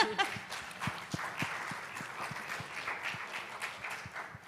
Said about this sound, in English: So I think a big clap to mothers.